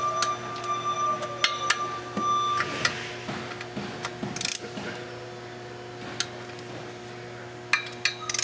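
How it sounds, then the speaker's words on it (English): Clutch bolts on a 1994 Nissan 300ZX being tightened with a torque wrench, giving close, sharp ratcheting clicks in short irregular bursts over a steady mechanical hum. "we're going to torque the bolts, and the bolt torque is 25 to 33 pound-feet"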